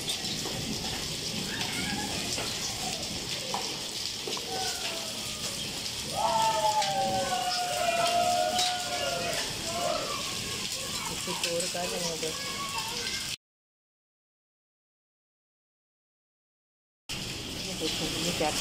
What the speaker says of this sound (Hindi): पौधे मेरे सारे टूट जाएंगे, ओलों से पड़ रहे हैं ओले